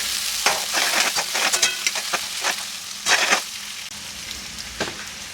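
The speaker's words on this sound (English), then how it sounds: "Let me give that a quick stir" Onions stir-fried on high heat for egg Hakka noodles sizzle loudly in the pan, with repeated scraping clatters as they are stirred, close and without speech.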